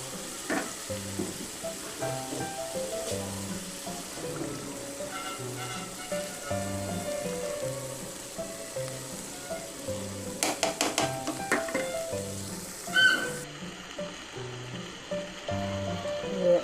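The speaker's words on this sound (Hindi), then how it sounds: "अब मसाले में हमने दाल को थोड़ी देर इसी तरह पकाना है ताकि दाल के अंदर सारा मसाला जात का टेस्ट शामिल हो जाए।" Boiled lentils, about half a kilo, simmer and sizzle in fried spice masala in a karahi, giving a continuous close frying hiss. Repeated stirring scrapes run through it, with a burst of rattling clinks near the end.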